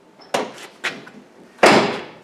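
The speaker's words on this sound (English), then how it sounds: "I think what I do now is close the door." The door of an old junkyard Cadillac is handled and swung shut, with two light knocks followed by a solid, loud slam, heard up close with no talking.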